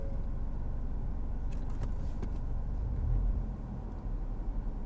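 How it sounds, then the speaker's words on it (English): A car idling with the air conditioning running and the engine close to stalling, a steady low rumble with a brief surge partway through, no talk. "My car was threatening to turn off."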